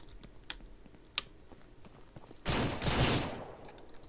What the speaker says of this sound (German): Ich habe einmal angeschossen in der Seite und einmal habe ich in den Kopf geschossen gerade.